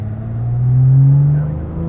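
Guntherwerks 400R, a restomodded Porsche 911, its engine revving up toward the red line inside the cabin, a loud rising drone that swells and then eases off.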